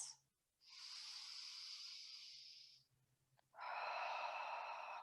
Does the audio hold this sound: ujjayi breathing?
yes